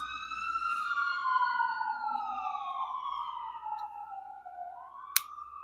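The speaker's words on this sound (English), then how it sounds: "I don't know if you guys can hear the sirens." A wailing emergency siren rises and falls, sounding from a distance and slowly fading, followed by a brief sharp click near the end.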